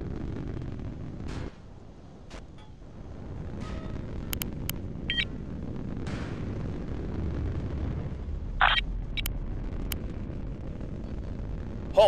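Missile explosions in a naval combat video game, heard as a low rumbling roar with a few sharp bursts and pops over continuous blast noise, no talking.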